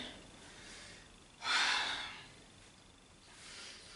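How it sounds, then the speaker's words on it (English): Breathing during light cardio exercise: one strong, close exhale-like rush of air, then softer breaths rising again at the end, quiet and without talk. "Nice inhales and exhales."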